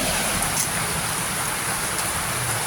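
Heavy rain pours steadily during stormy, typhoon-like weather, a dense, loud and unbroken hiss of falling water with no voices.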